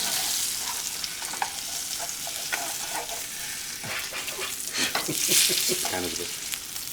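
A sirloin strip loin steak with a strip of fat on the side sizzles loudly in a pan, a steady crackling fry broken by scraping and stirring clicks up close.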